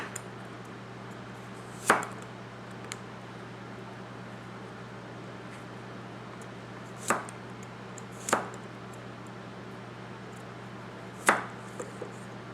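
Sharp chops from a Tojiro ITK 240mm Kiritsuke Gyuto knife striking a cutting board, a few isolated impacts spaced seconds apart over a steady fan-like hum.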